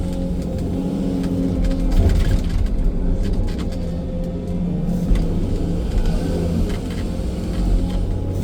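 A SANY 305 excavator engine rumbles and strains lifting a load, a deep continuous drone with slight surges, loud and nearby.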